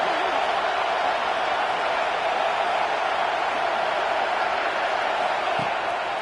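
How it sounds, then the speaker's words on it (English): A packed football stadium crowd roars in a dense, sustained wall of cheering during a third-down play in the red zone of an Alabama versus Nebraska game, with an announcer talking faintly over the noise. "3rd down play in the red zone, and this crowd is at fever pitch"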